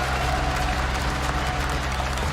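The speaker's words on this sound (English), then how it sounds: "Cheerleaders in the crowd." Arena crowd at an esports Counter-Strike semi-final match between Fnatic and Astralis, cheering and applauding in a steady dense roar throughout, with a commentator's voice faintly mixed in.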